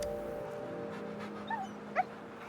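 Two short, soft whimpers from a dog in the video game Wuthering Waves, heard over a steady low ambient game hum.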